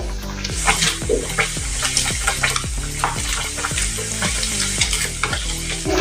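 Paneer pieces fry in hot oil in a pan, giving a steady, close sizzle. A utensil clinks against the pan at a regular rhythm throughout.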